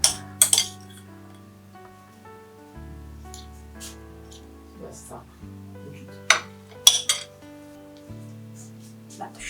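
Dadhikarma, the sweet curd offering made for Saraswati Puja, being served into a small plate or bowl: a few sharp clinks and taps of spoon on dishware ring out over soft background music, with quiet gaps between them.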